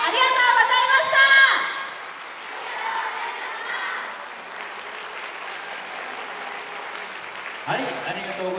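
At a YOSAKOI Soran festival hall, an audience gives sustained applause after a dance team's performance, steady clapping from a large crowd that continues under an announcer's voice.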